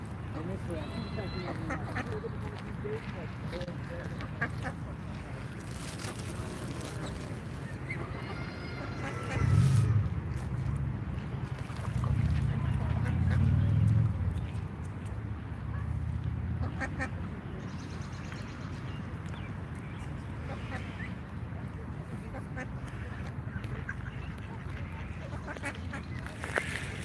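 Ducks quacking outdoors in Washington, DC, a few louder bursts standing out over a steady murmur of background noise and intermittent talk.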